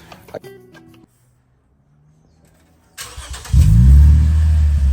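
A Lexus IS 250 with an aftermarket HKS axle-back exhaust cranks and fires, then roars into a loud, deep rev with a throaty, rumbling exhaust note, close by; brief clatter precedes it.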